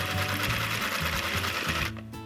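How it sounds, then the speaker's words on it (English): A Sew Cool toy sewing machine runs while sewing a heart pillow, giving a rapid, continuous mechanical whirring and chattering that is fairly loud and close, then stops abruptly near the end. "we're going to sew the rest of it up after we've tucked this in"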